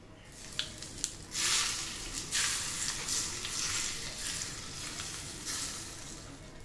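Hot mustard-seed and asafoetida tempering hits cut raw mango with a sharp sizzle, crackling in uneven bursts that rise and fade, fairly soft and close, with no talking.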